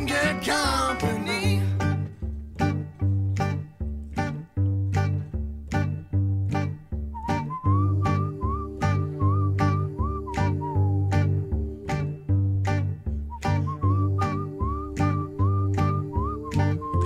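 Melodic whistling carries the tune in a bluegrass song, layered over a steady strummed banjo-and-cello beat with claps, loud and continuous throughout.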